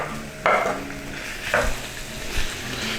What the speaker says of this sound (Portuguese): Vou pegar o meu salmão, vou colocar na frigideira